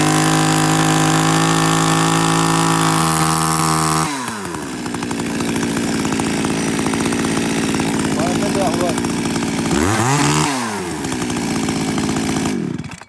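A Japanese E3 chainsaw with a muffler runs loudly and continuously up close, idling, then revving several times, with some talking partly under the noise.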